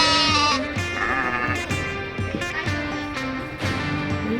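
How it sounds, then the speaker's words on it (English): Goats at a zoo enclosure bleat loudly and repeatedly, several wavering cries in close succession and near, with scuffling between calls and no talk. "Uh-oh, we got fighting goats over here."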